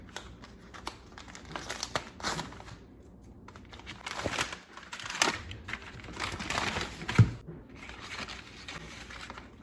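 A packaged chef's cut grass-fed ribeye steak is unboxed close by: quiet, irregular crinkling and rustling of plastic and paper wrapping, with soft handling sounds and no talking.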